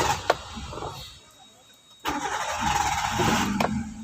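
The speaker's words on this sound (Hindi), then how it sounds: "अब मैंने क्लच दबा के इंजन को फिर ऑन कर दिया" A car engine started with the clutch pressed down: a short click, then a pause, followed by the engine catching and settling into a steady idle, close and fairly loud, with no talking.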